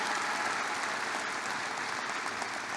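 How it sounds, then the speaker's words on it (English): Steady applause from a graduation ceremony audience, a dense, even wash of many hands clapping that sounds distant and fairly quiet throughout. "That deserves a clap."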